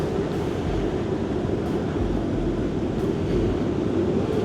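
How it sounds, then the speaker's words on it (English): Strong wind blowing across an open cruise ship deck on a Norway and Iceland voyage, a loud, steady roaring rush buffeting the microphone without a break. "And the wind is picking up, so let's go."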